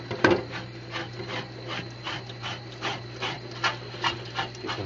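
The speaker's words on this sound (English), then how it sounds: "You can hear that sound, and it's taking the calcium right off." Close scrubbing of calcium deposits off a glass top, a rhythmic rasping rub repeating about twice a second over a steady low hum.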